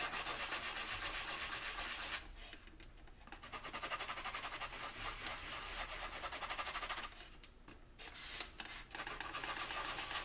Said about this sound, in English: We'll sand these down a little bit.